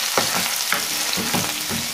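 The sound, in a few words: stirring frying chicken with ginger, garlic, curry leaves, green chilli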